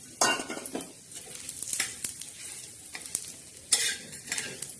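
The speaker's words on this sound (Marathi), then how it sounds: "त्याच्यात थोडंसं तेल टाकून आपण हे खोबरं टाकणार आहोत, खोबरं भाजत आहोत." Grated coconut roasting in a little oil in a pan where bajra was toasted just before, with steady close sizzling and a spatula scraping and clinking against the metal at irregular intervals.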